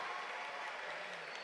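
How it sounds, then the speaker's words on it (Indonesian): Brief, faint applause from an audience at an Islamic gathering during an education festival, a dense even patter of clapping without speech. "Tepuk tangan semuanya."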